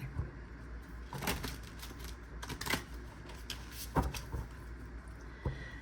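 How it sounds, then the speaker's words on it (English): Tarot cards being shuffled close by, heard as scattered soft riffling bursts and sharp flicks at irregular intervals over a quiet room background. "So I'm just doing a little bit of shuffling on screen because people like to see the shuffling."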